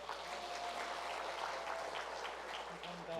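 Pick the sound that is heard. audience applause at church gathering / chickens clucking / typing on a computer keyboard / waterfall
audience applause at church gathering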